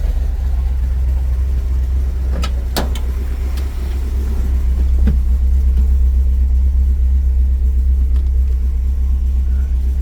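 The 340 V8 of a 1972 Dodge Challenger rumbles at a close, steady low idle as the car eases forward and back, with a few faint clicks and knocks over the engine drone.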